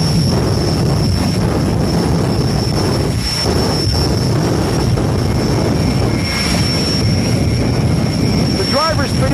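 A jet dragster engine runs with a loud, steady roar filling the whole stretch, a continuous jet-like drone with a high whine layered on top, producing a fire and smoke show.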